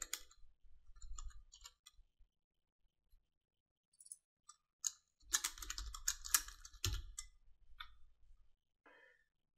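Typing on a computer keyboard, close and quiet: scattered key taps at first, then a dense burst of rapid keystrokes and clicks, with faint breathing between.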